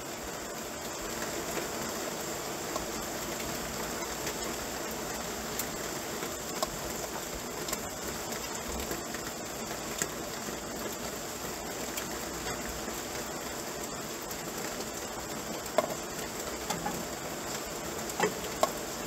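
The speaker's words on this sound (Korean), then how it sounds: "비 오는 소리야." Autumn night rain falls on a street in Mokdong, Seoul, a steady dense hiss with occasional louder drips and patters close by, continuous and without voices.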